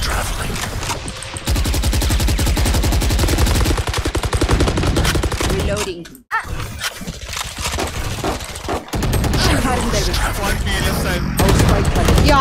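Rapid bursts of gunfire in Valorant fill most of the stretch as dense, loud repeated shots, with brief gaps near the middle and short clusters of firing returning afterward.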